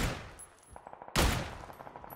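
Sniper rifle fire in the game PUBG: a sharp, loud shot cracks out near the middle, followed by decaying echo and softer mechanical clicks, with a fainter burst earlier.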